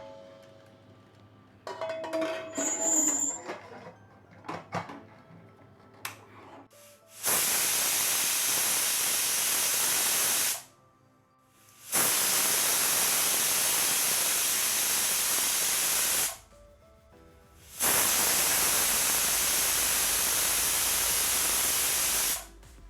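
A pressure cooker on a medium flame releases three long, loud hissing whistle bursts with short gaps between them, preceded by faint clattering sounds.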